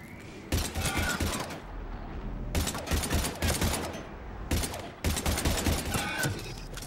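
Gunfire from the video game Mass Effect 3, with sustained bursts of automatic fire in three loud clusters over a constant battle rumble, separated by brief lulls.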